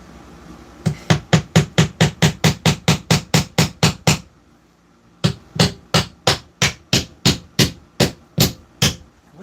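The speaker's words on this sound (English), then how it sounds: "What's with my hammering now?" A hammer strikes repeatedly in a fast, steady rhythm: a long run of about fourteen sharp, close blows, a brief pause, then another run of around ten.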